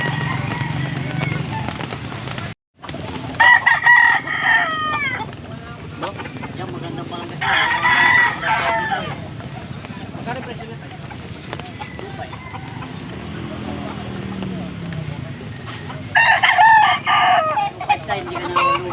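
Roosters crow loudly several times at intervals, with scattered talk and market bustle underneath at a rainy-day poultry market in Pampanga.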